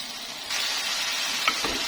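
Rica-rica spice paste fries steadily in hot oil, a close, dense sizzle that grows louder after a moment, with a couple of brief stirring scrapes near the end and no talk.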